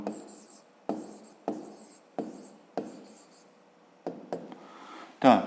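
Pen scratching out a maths answer by hand on paper, a series of short strokes in bursts of about half a second each, close and quiet, ending with a brief louder knock.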